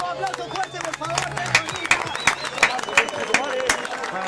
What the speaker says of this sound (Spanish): ¡Aplauso fuerte, por favor!